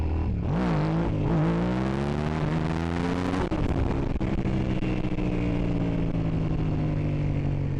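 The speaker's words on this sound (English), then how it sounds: "Let's do our first gear wheelie" A Suzuki SV650 motorcycle engine revs hard and climbs through first gear for a wheelie, the rising harmonic whine close and loud, then it settles into a steady high drone with wind rush.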